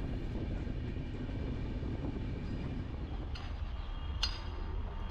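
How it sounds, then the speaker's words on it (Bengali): A train rolling across eastern Rajasthan after leaving Madhya Pradesh, heard as a steady low rumble from on board with a couple of brief metallic clinks near the end. "এই মুহূর্তে আমাদের ট্রেনটি মধ্যপ্রদেশের সীমানা অতিক্রম করে চলেছে রাজস্থান রাজ্যের পূর্ব প্রান্তের উপর দিয়ে।"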